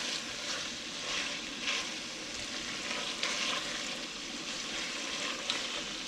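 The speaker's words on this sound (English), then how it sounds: "I just want to give this a little bit of time to get some color and some fat from the sausage onto the gnocchi" Sausage and boiled gnocchi browning together in a pan make a soft, continuous sizzle with faint stirring scrapes, moderately quiet and steady.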